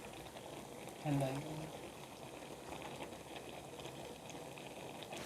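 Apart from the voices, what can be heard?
melting cheese bubbling in hot pan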